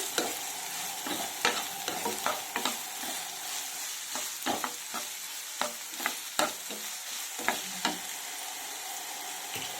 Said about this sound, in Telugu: ఇప్పుడు ఉల్లిపాయలు దీంట్లో వేసేసుకున్నాము. ఇవి ఫ్రై అవ్వాలండి బాగా.